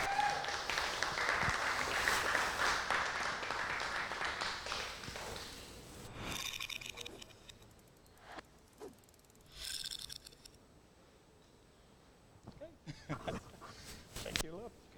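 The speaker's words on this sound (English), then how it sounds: "Give another round of applause for our winner, Tabben." Dense applause and cheering from an audience at an Age of Empires III LAN championship, for a match winner, fills the first six seconds, then fades into quieter murmurs and scattered short bursts.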